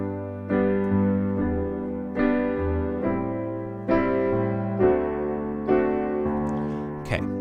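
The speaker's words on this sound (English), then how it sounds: "Let's start out with the main chord progression that is featured in the verse" Piano playing the intro chord progression of a song in G, with a string of sustained chords struck one after another at an unhurried pace, full and close, with no voices.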